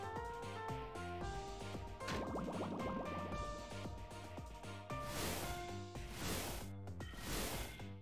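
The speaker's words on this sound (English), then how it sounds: "Pour a little whiskey in my cup." Whiskey poured into a cup, heard as a soft liquid glugging and trickling fill over quiet game music, faint and close, with no talking.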